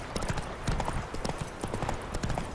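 Hooves of the horse Roach pound in a fast gallop across open ground in The Witcher 3, a rapid uneven clip-clop rhythm close and clear.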